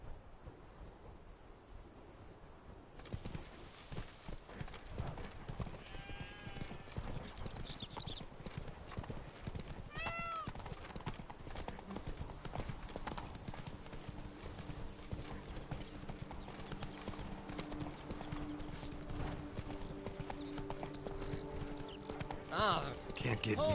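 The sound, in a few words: horse Roach's hooves in The Witcher 3 video game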